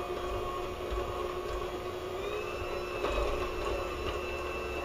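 An electric mixer runs at low speed, blending flour into cookie dough with a steady, even mechanical whir that holds at a moderate level throughout, with no one speaking.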